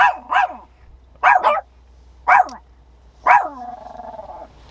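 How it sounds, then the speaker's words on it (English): A dog barks four times, close and loud, in spaced single and double barks, the last trailing into a short whine. "They don't want to hear you barking"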